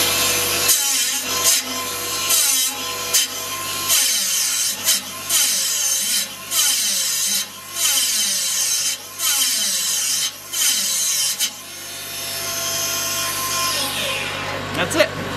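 A mobile dimension sawmill runs with its blade cutting through wood, a loud continuous grinding rasp that swells and dips in repeated passes before winding down at the end.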